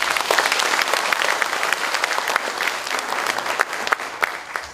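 Vigorous audience clapping at a Korean union cadre meeting, dense and sustained with sharp individual claps scattered through a full, even wash of applause.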